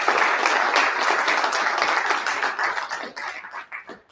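An audience applauds three speakers at a political talk event, with steady dense clapping that thins and tapers off toward the end.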